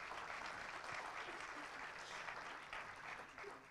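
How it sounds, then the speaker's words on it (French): Faint, steady applause from a conference audience welcoming a speaker at an agricultural event, a soft continuous patter of many hands heard from afar. "on peut l'applaudir"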